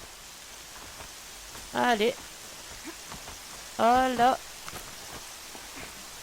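Steady rain falls in the Horizon Zero Dawn video game, a soft continuous hiss of drops beneath a player's brief spoken remarks.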